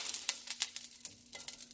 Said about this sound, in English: I'm going to add some of that fry oil onto the griddle. And now I'm going to add my jalapeno.